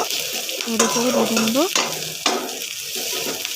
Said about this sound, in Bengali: আর এটার মধ্যে আমি দিয়ে দিব পেঁয়াজ কুচি, আদা রসুন কুচি বা যা রেখেছিলাম সেগুলো দিয়ে দিব। আর ভালো করে একটু ভেজে নিব